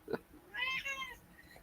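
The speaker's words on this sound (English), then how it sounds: "That's how my cat sounds when he wants some Lovin's." A male house cat gives one drawn-out, tonal meow close by, preceded by a short, faint sound.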